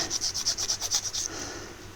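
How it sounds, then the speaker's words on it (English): Wooden planking on a 1:24 scale model bus kit is rubbed with a sanding stick in about ten quick, even back-and-forth strokes, close up and crisp, before the rasping stops. "it's going to be easier to use a proper sanding stick"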